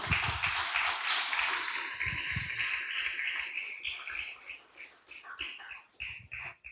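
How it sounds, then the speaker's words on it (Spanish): A church congregation gives a loud round of applause during a sermon, a wash of many hands clapping together that rises and then thins toward the end. "Déselo fuerte una vez más el aplauso al uno"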